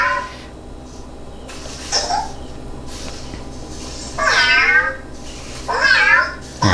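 A COZMO toy robot's electronic voice gives several warbling cat-like meows, two longer ones near the end, with short chirps and quiet pauses between.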